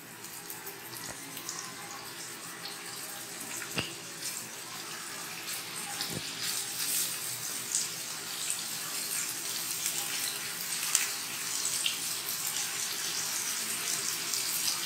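Kashmiri kofta balls frying in a pan of oil make a continuous bubbling sizzle, close and moderately loud, with a few small clicks and knocks, no talking.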